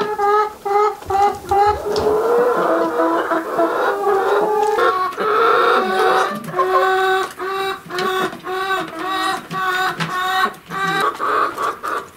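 Domestic chickens cluck steadily and loudly nearby, with overlapping calls in a broken, repeating rhythm as they peck at a tail feather one of them plucked, with no talk.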